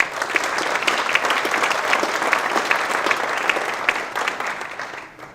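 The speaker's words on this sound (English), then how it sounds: "Let's give them a round of applause." A room of attendees at a retail market study presentation gives a short round of applause, a dense patter of many hands that stays steady and then fades away after about five seconds.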